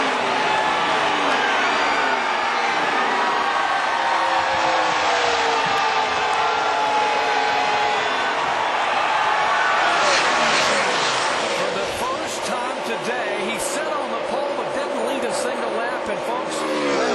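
NASCAR stock cars roaring past at the 2007 Pennsylvania 500 before a large crowd, engine sound swelling and sweeping by with Doppler shifts, under a commentator's voice.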